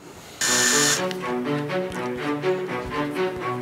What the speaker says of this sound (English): let's get this drilled.